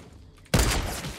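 A sniper rifle shot in the video game Fortnite cracks out loud and sudden after a quiet stretch, followed by a sustained rumbling tail that slowly fades.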